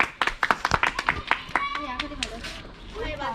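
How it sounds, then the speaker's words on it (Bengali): Hands clap in a quick run of sharp, close claps for the prize winner in a dart-throwing balloon-popping game, with children's voices and talk over and after them as the clapping fades. "হাততালি।"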